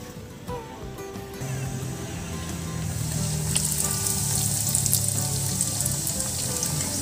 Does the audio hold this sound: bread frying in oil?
yes